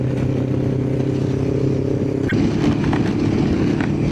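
A motorcycle riding along a country road in Scotland, a steady close engine hum with wind rush and light rattling, and a sharp click partway through.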